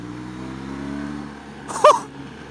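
A 2016 BMW R1200GS motorcycle engine drones steadily at low revs in third gear, its tone rising slightly as it pulls forward, with a brief voice breaking in near the end.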